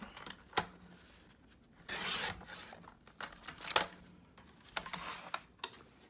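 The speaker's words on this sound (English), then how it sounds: "I'm gonna cut this part off" Cutting off part of a journal insert base: soft, close, scattered snips and rasping strokes with one longer scraping pass, quiet and irregular, no voices.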